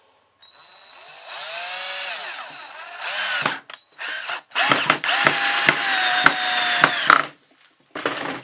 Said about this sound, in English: I'm gonna put a screw in right here and we'll see what happens.